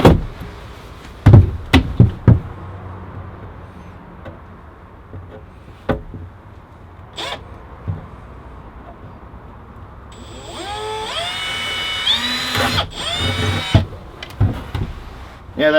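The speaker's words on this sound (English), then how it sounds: "so now I'll just drill from the back side" Scattered knocks and taps give way to a power drill whining up through rising pitches as it bores through a panel from the back side while installing a Chinese diesel heater, then stops with a clunk.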